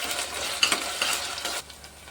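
Onion and ginger-garlic paste fry in hot oil with a steady crackling sizzle and brief stirring scrapes, close up with no voices.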